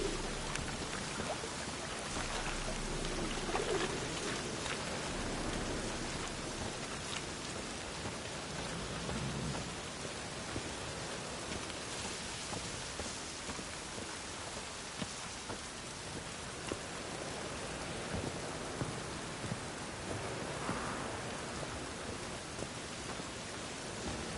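Steady rain falls in The Witcher 3, a dense, even hiss of raindrops that continues throughout with no voices.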